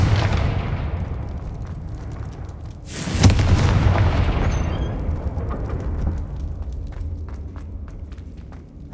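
The Confringo explosion spell in the Hogwarts Legacy video game sets off a loud, booming blast partway through, preceded by a rumbling buildup and followed by a long decaying tail with scattered crackles and pops.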